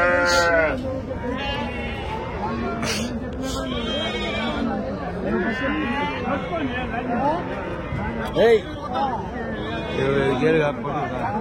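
Gudur sheep bleat repeatedly at the Angallu livestock market, several animals calling over a dense background of crowd chatter and people talking nearby.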